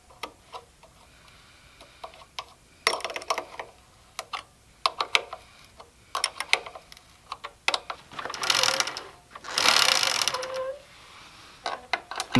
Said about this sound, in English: I definitely have to tighten this chain because she was skipping on me.